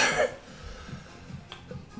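A person coughs once at close range, a short loud burst at the start, followed by quieter shuffling and low room noise.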